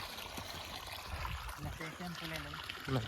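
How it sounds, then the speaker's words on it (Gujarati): Irrigation water trickling and splashing steadily into a castor field, with a person's voice talking over it. "એડા બાંધીને પહેલી વાર પાણી ચાલુ કર્યું છે"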